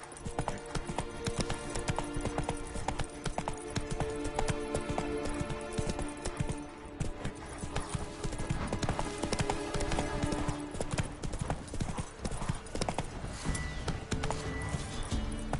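A horse in The Witcher 3 gallops with fast, continuous hoofbeats up close, layered over dense game music and effects.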